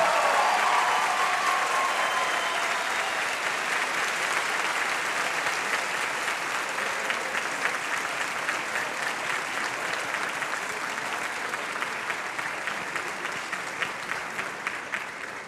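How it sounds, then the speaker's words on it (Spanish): A large audience at the Bogotá International Book Fair applauds to welcome guests, a steady, dense wash of clapping that carries on for about fifteen seconds and slowly fades slightly. "Recibamos a nuestros invitados con un fuerte aplauso"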